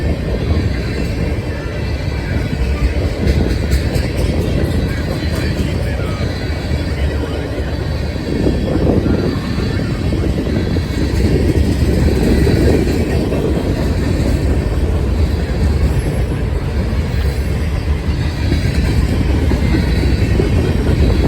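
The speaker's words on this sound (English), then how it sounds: "leading a monster mixed manifest train making its way towards" A long mixed manifest freight train rumbles past close by in Northwood, Ohio, a continuous heavy roar with rattling cars and faint rhythmic clacking throughout.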